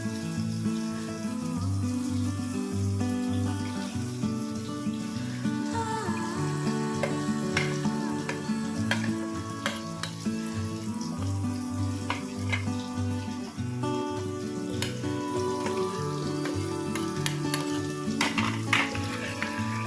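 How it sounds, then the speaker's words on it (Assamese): Potatoes for Kashmiri aloo dum fry in a pan, a steady close sizzle with scattered crackles and occasional scraping stirs, continuous for about twenty seconds with no talk. "এতিয়া আলুখিনি আমি অলপ দেৰি ফ্ৰাই ফ্লেমত ৰাখিম।"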